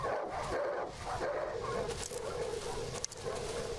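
Dogs in the survival horror video game Darkwood bark and yip in short rough bursts through a tense ambient backdrop, with brief whimpering noises between.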